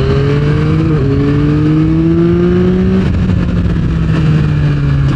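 Yamaha Tracer 9 GT motorcycle engine pulling hard under acceleration, a steady rising drone that shifts gear once, then again near the middle, loud and close with wind rush and no talk.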